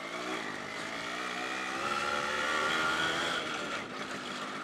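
A Yamaha RX100 two-stroke motorcycle being ridden in Pokhara, Nepal, its engine a continuous buzzing drone with rising and falling pitch as it revs, heard from the saddle at moderate volume with no talk.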